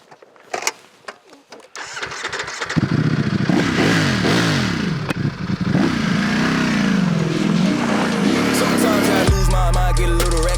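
Ducati Streetfighter V4 S naked motorcycle with 205 bhp, its engine starting after a few clicks and then revving loudly and continuously up and down, rising and falling pitch sweeps, close by, with music cutting in at the end.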